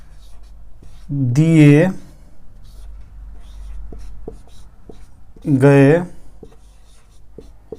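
Writing out a maths equation during a Class 10 lesson on linear equations gives faint scratches and light taps, mostly tucked between and beneath a man's spoken explanation.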